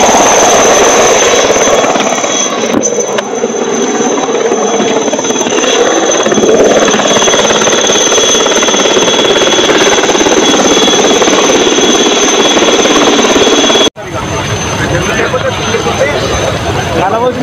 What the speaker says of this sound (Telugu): నర్మల వాగులో చిక్కుకున్న వారిని రక్షించడానికి చేరుకున్న ఆర్మీ హెలికాప్టర్